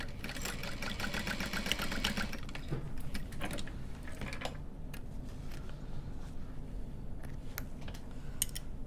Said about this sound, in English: Reinforce that stitching at the beginning and the end with a little back stitch.